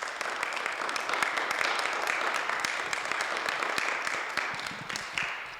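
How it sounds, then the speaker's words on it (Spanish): An audience at a university talk on international profiles for humanities and social science students claps in a dense, steady burst that fades slightly toward the end. "Les pido un fuerte aplauso para ellos."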